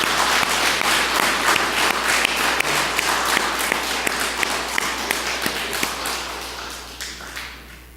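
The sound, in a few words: congregation applause in church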